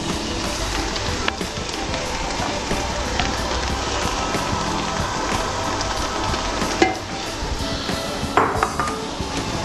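Ravioli and tomato sauce sizzle steadily in a pressure cooker after an earlier frying step, a dense continuous hiss with a few faint metallic clinks and stirring taps, close and fairly loud.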